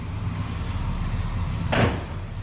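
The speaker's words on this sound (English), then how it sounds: "Just close that door very hard." One solid thud of a 1971 Oldsmobile Cutlass door being shut firmly, over a steady low background hum.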